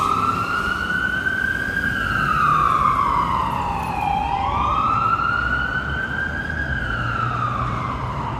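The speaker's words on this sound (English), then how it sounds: "And we got an ambulance!" An ambulance siren wails loudly as it passes along a busy downtown Vancouver street, its pitch rising and falling in long sweeps and dipping as it goes by, over steady traffic rumble.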